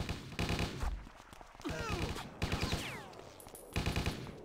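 Rapid bursts of gunfire from the video game Stubbs the Zombie, several volleys of close, loud shots with brief pauses between them, mixed with game sound effects and a few short in-game voices.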